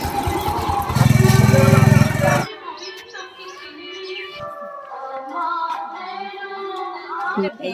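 A motorcycle that will carry goods where four-wheelers cannot reach runs loud and close with a rough buzzing rev, then cuts out abruptly as people start talking over faint background noise.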